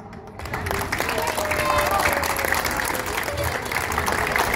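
An audience claps steadily at a Bottrop event against child abuse, welcoming a speaker: a dense, sustained wash of applause that swells slightly and holds.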